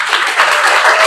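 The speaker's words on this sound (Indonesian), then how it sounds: "Tepuk tangan untuk Dani." Schoolchildren in a classroom clap for a classmate during a religious education lesson, a short burst of close, brisk applause lasting about a second.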